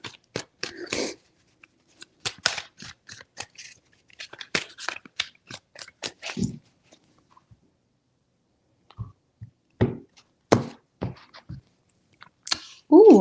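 Tarot cards shuffled in repeated quick riffling bursts of papery flicks, close and crisp, with short quiet gaps between rounds and a voice speaking briefly.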